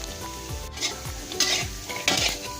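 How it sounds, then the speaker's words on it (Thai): Washed, still-wet peanuts rattle and scrape in a hot pan over high heat as a utensil stirs in repeated strokes, with a faint crackle beneath. "เอาถั่วที่ เราล้างน้ำสะอาดอีกแล้วเอาลงไปคั่วค่ะ"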